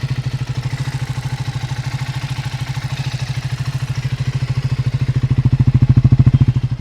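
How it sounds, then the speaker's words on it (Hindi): A Triumph Speed 400 motorcycle engine idles close by with a rapid, even thumping pulse that swells slightly louder toward the end, with no other sounds. "एक बार आप इसका नॉर्मली विदाउट ड्राइविंग का आवाज़ सुन लो ताकि इंजन बता जाए कि इंजन में कोई डैमेज तो नहीं है आपका"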